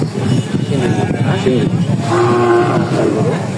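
A Sindhi bull at a village cattle market lets out a drawn, low moo that rises and holds near the end, amid crowd chatter and ambient market noise.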